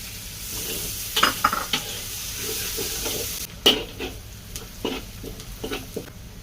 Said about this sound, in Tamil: சோப் பண்ணி வச்சுருந்த வெங்காயம் போட்டு நல்லா சிறப்பை வந்து கிண்டி விட்டுருவோம்.